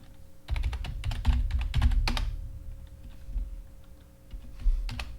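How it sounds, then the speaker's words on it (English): Someone types a password on a computer keyboard in close, quick bursts of clicking keystrokes that trail into a few scattered taps, with no talk. "Still typing my password."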